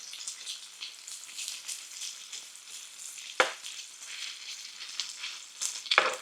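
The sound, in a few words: bacon frying in grease on a grill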